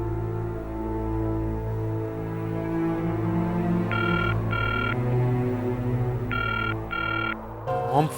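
Phone rings in two bursts of electronic double trills, heard over a low steady hum, with a brief thump at the end.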